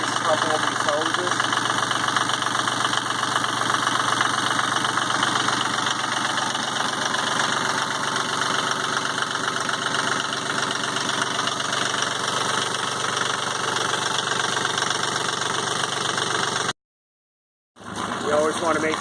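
A Yanmar 30hp marine diesel runs at a steady idle just after a cold start, with a dense, even clatter held close and loud for about seventeen seconds before cutting off abruptly.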